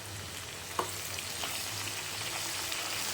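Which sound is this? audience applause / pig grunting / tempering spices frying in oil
tempering spices frying in oil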